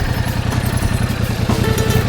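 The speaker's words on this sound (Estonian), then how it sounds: "Ei ole tõukeratas, see mootorratas." A motorcycle engine idles close by, a steady low throbbing pulse held without change over a couple of seconds during a riding lesson.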